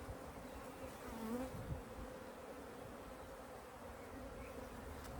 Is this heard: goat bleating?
no